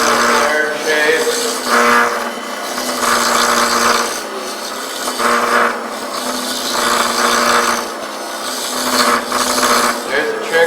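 A spindle gouge cuts a flare shape on wood turning on a lathe, giving a continuous loud rough scraping and rasping with a steady motor hum beneath and rhythmic swells as the tool sweeps across the spinning piece.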